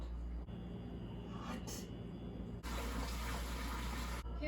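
Tap water runs into a sink, rinsing spaghetti-like wool yarn in cool water, a steady close gush that briefly drops out and then returns stronger, with a voice faintly underneath.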